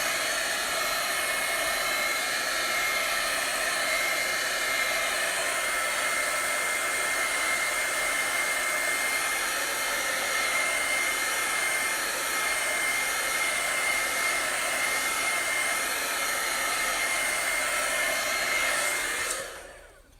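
A hair dryer blows steadily and loudly for about twenty seconds while drying a chalk transfer design, its even whoosh cutting off at the very end with no talking.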